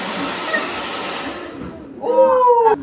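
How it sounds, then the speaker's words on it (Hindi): A hair dryer blows with a steady broad rushing hiss for about two seconds, then cuts out as a sharper whine and other household noise take over briefly. "अब ड्रायर का काम खत्म है"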